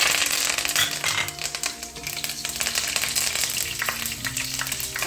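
Dried chillies and curry leaves frying in a pan of hot oil, a steady loud crackling sizzle with sharp pops, close up and continuous, with no talking.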